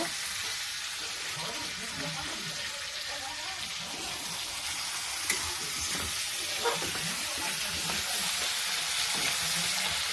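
Meat and tomato frying together in a pan in a home kitchen, a steady close sizzle with occasional stirring scrapes and small pops running for about ten seconds, a few faint voices in the background.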